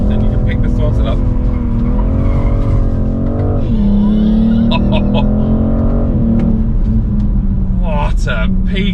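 BMW M440i engine revving hard through a slippery corner as the tires squeal and skid, loud and close, with someone talking excitedly over it.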